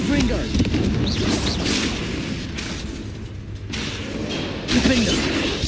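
A Confringo fire spell blasts in the video game Hogwarts Legacy, with loud booming bursts and crackling magical impacts layered over game music and effects, with a voice heard among them.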